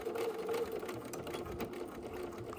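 A sewing machine stitches fabric for a wine bag, running in a continuous fast whirring rattle close by for the whole stretch, with no voice over it.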